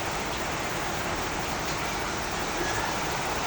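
Heavy rain pours steadily during a flood, a dense, unbroken hiss of downpour filling the whole stretch with no pauses.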